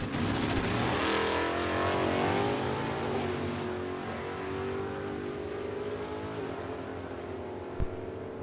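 Two vintage drag cars, a 1958 Chevy and a Willys, race down a strip at a vintage drag meet, their loud engines roaring steadily from start to finish, with a brief sharp knock near the end.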